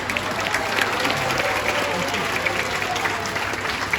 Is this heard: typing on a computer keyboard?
no